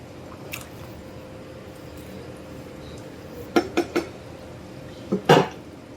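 Beef kala bhuna is stirred in a cooking pot: a quiet simmering background, then a quick cluster of three metal scrapes and clanks, followed by another louder pair a moment later.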